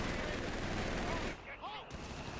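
Heavy machine guns fire in the World War II strategy game Company of Heroes 3, a dense, loud, continuous burst of gunfire with a brief dip in intensity partway through, mixed with faint battle sounds.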